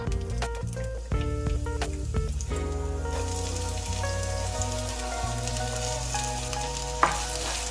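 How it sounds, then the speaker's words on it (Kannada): Onions frying in hot oil for paneer masala, a steady dense sizzle with stirring scrapes and clinks in the first few seconds, continuous and close, with no talking. "ಈರುಳ್ಳಿನ ಸ್ವಲ್ಪ ಫ್ರೈ ಮಾಡ್ಕೊಳ್ಳೋಣ"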